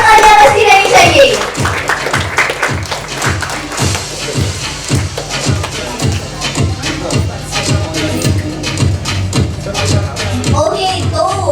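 Loud rhythmic clapping from a crowd at a dance competition finale, steady beats in unison running throughout, with voices and some musical tones mixed in underneath.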